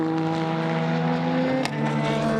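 Endurance prototype race cars, including Audi and Porsche, at the 2016 6 Hours of Silverstone in the FIA WEC give a loud, sustained engine drone whose pitch shifts partway through, with no talk.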